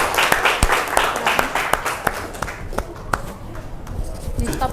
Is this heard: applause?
yes